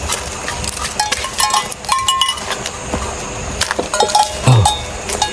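Cows shift around at night near an abandoned waterpark, giving off scattered clinks, rustles and a brief low lowing or bleat-like call near the end, all fairly close, with no talk over it.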